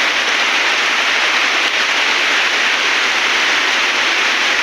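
Heavy rain pours down during a storm, a loud, unbroken hiss of downpour filling the whole stretch with no voices.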